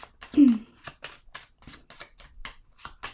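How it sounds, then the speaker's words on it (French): A tarot card is set down on a table with a brief papery slap, followed by a run of light card clicks and shuffling rustles at close range, with a quiet voice briefly heard early on. "Je vais déposer une carte sur la solitude."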